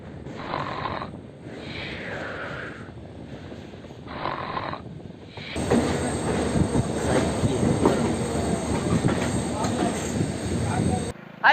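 The Hassan–Subramanya passenger train runs on its rails with a steady rumble and rattle of the carriages, close by and loud for most of the stretch. Earlier there are quieter rolling passages with occasional wheel squeal.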